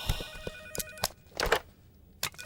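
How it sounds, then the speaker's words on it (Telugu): A telephone rings in a neighbouring hotel room, repeated short trilling bursts at fairly low volume, spaced unevenly, with brief gaps of quiet between them. "ఏంటి బాస్ ఫోన్ ఎత్తున రింగ్ ఆగట్లేదు?"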